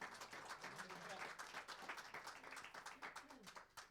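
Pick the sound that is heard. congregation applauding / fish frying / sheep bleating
congregation applauding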